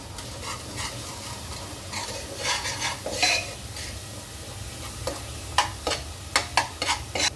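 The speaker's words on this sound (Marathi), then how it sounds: "आपल्याला ह्याला छान तेल सुटेपर्यंत आपल्याला परतून घ्यायचं" Spice masala of ground coriander and cumin being stirred and sautéed in oil in a pan for a black peas curry, with soft scraping strokes and light sizzle, and a cluster of sharper spoon scrapes toward the end, close and alone.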